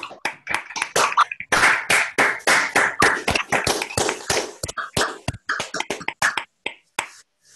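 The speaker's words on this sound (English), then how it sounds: "If you unmute your microphone, give him a clap" Several people clap unevenly over a video call, sharp separate claps from a few pairs of hands overlapping, thinning out toward the end, slightly thin and compressed.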